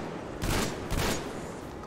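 Gunfire in the post-apocalyptic shooter Metro Exodus: two quick bursts of shots, close and sharp, about half a second apart, with no talk.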